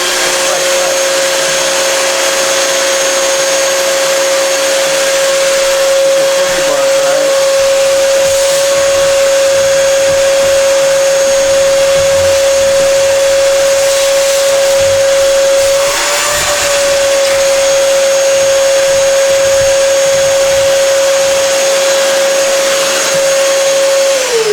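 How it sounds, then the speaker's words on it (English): A vacuum cleaner runs loud and steady throughout, cleaning the lint trap of a Kenmore Series 70 dryer, its motor whine holding one constant pitch with brief shifts as the nozzle moves. "I got the vacuum out"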